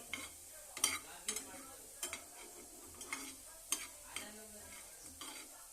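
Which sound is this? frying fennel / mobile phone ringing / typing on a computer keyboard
frying fennel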